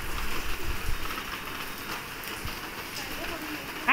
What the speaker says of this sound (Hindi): देखो बारिश आ रही है, रेनिंग।